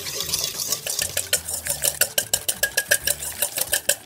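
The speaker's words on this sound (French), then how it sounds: "Donc on commence à battre les jaunes d'œufs, les deux, hein, comme ça, avec le sucre dedans" Egg yolks being beaten with sugar in a bowl for a carrot cake, heard as a steady run of quick, close clinking whisk strokes that grow more regular toward the end, with no talk over it.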